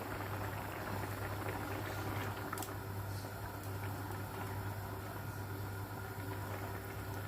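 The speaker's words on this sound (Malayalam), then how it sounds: "മീനെല്ലാം നന്നായിട്ട് തിളച്ച് വന്നിട്ടുണ്ട്" A pot of Kerala-style salmon fish curry with kudampuli simmers in a steady, low bubbling boil, a constant close burble with no talk over it.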